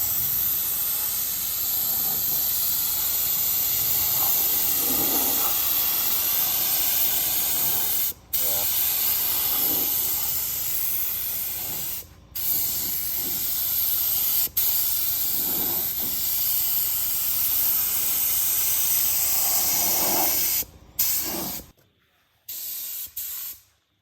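Aerosol spray paint can hissing steadily in long continuous bursts, with a few brief gaps and sputtering as the spray cuts out near the end, close and loud.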